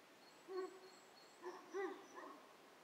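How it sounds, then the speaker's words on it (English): A Newfoundland dog indoors gives a few short, separate barks and yips at moderate distance, with quiet gaps between them. "He barks. He thinks he sees somebody."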